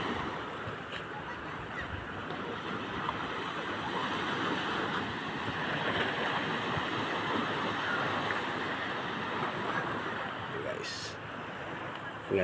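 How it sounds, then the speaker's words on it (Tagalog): Small waves wash against the shore on a beach jogging path, a steady, soft, continuous surf sound with light wind buffeting the microphone. "Ganda ng view kaya malilit ang alon."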